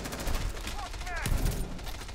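Rapid gunfire from weapons in a Rainbow Six Siege team deathmatch hostage round, sustained bursts rattling across the clip under game ambience, with a player's voice briefly audible.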